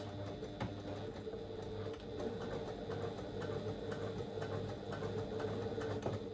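A sewing machine stitches a curved seam on a pouch with a soft, continuous mechanical whir and rapid needle ticking, faint and even throughout.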